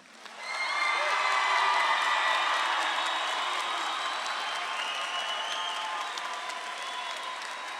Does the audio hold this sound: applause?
yes